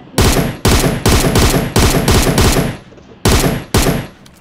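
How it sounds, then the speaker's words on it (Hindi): Gunfire in the PUBG video game: loud, close automatic bursts in rapid repeated volleys, each a sharp clattering stream separated by brief gaps. "कौन फायरिंग कौन कर रहा है ब्रो?"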